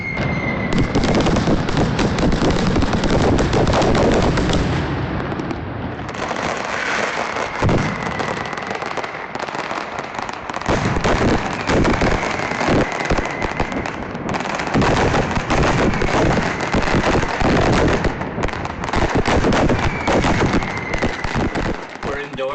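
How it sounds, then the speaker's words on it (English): Fireworks going off outdoors, a loud, dense, nonstop barrage of crackling bursts and booms lasting over twenty seconds, with only brief dips in intensity. "I'm going to enjoy the fireworks and my sangria"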